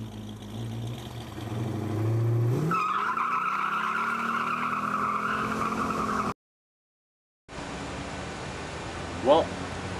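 A vintage American car drives off with a loud tire squeal and revving engine, followed by a brief gap and then steadier road noise with a short chirp near the end.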